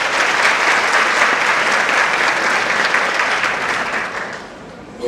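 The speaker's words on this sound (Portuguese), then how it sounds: "Vamos aplaudir." Audience at a jury event in Petrolina applauding after a speaker is introduced, dense sustained clapping that fills the space, loud and steady, then fading toward the end.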